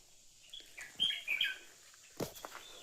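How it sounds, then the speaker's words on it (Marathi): Small birds chirp in a quiet village setting, a few short bright calls close by, with faint knocks in the background. "पक्षी काय आरडतात"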